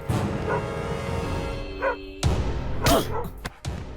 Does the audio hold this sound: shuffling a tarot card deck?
no